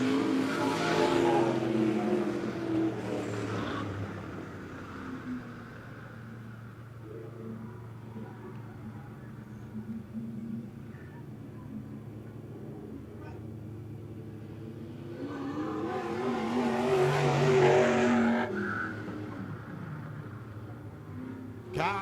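USRA stock cars racing at Monett Motor Speedway during heat races, engines roaring past in two loud surges with a quieter stretch between, as an announcer talks over the cars.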